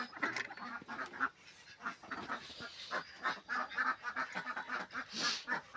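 Ducks quack and honk in a busy, overlapping chorus, close by, with short bursts and pauses throughout.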